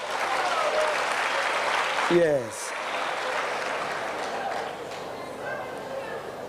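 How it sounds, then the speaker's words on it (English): An audience at a World TB Day commemoration applauds in a steady wash of clapping, with voices mixed in and a brief spoken word near the middle. "Can we give him a round of applause?"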